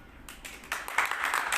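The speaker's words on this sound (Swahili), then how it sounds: "Si wapigie makofi kidogo" A short burst of hand clapping from a small church gathering applauding the singers, starting sparse and quickly building into steady, fairly close applause.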